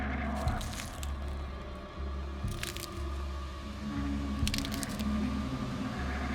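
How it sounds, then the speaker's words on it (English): Pine needles crunching underfoot outside a tent at night, a steady rhythmic series of soft crunching steps repeating about every second, close and alone. "The crunch of those needles."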